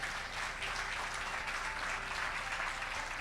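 A church congregation claps together in steady, dense applause that holds evenly throughout, heard from within the room at moderate loudness.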